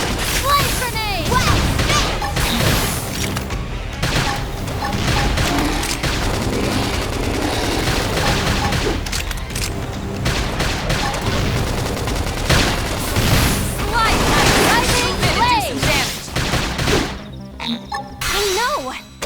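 Gunfire and explosions in the video game Xenoblade Chronicles X, with rapid bursts, booms and impacts layered over battle music and combat voices, loud and dense throughout.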